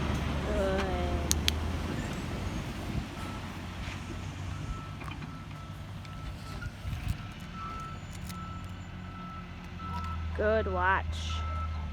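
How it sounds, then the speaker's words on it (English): A truck backs up with a steady series of reversing beeps over low engine rumble, while a person talks to a dog in between. "You watch the truck? Watch the truck."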